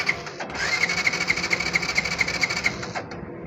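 A motorcycle fuel pump runs with a rapid, steady mechanical buzzing whir for about two and a half seconds, then stops, with a high whine riding on top.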